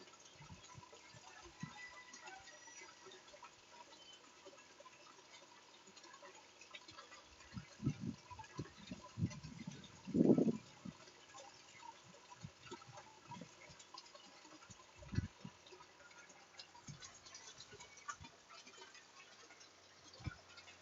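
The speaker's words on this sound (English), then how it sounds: "You hear the water starting to run behind me here." Water begins running through a 50 mm (2-inch) pipe in an aquaponics system, a faint, sporadic trickling and gurgling with a brief louder surge partway through.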